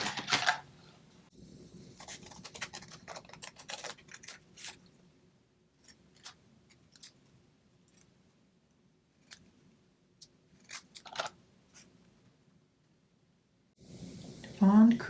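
Scissors snip through paper while making Christmas gift tags, a run of short crisp cuts in uneven bursts, with a pause partway through and a louder rustle at the end.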